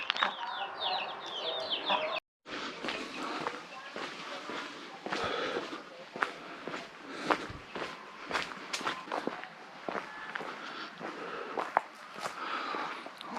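Hens with their chicks cluck and squabble in a village yard in Sinop, Türkeli, with footsteps crunching close by and a voice talking over the busy, steady flock.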